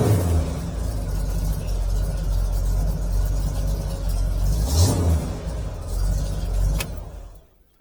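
A 1965 Chevrolet Impala convertible's engine runs steadily with a low, rumbling idle throughout, rising briefly in a short rev before cutting off at the end.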